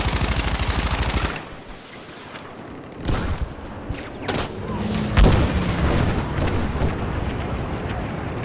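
Sustained gunfire aimed at an enemy plane in the Battlefield V video game, bursts of heavy automatic fire and booming impacts that swell and fall over several seconds, loud and continuous with no talk.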